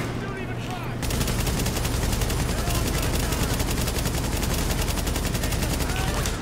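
Sustained automatic gunfire from Tom Clancy's The Division, a dense continuous burst of rapid shots starting after a quiet second and running loud to the end, with explosion-like thumps mixed in.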